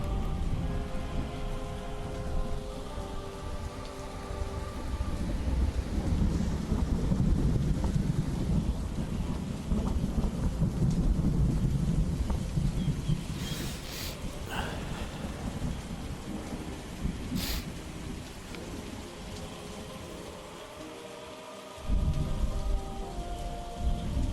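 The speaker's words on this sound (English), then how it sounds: "you look up, and you hear the loud rain and thunder." A heavy rain and thunder sound effect: steady rain pours down with deep rolling thunder rumbling throughout, loud and close, with a brief dip near the end.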